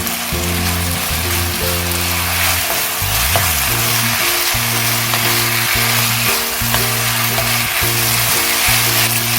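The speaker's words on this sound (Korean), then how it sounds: "감자가 지금 잘 이렇게 약한 불에서 잘 볶아지고 있어요." Julienned potatoes stir-frying over low heat with chili powder for a red-seasoned Korean potato side dish: a steady, dense sizzle throughout, with a low droning hum underneath.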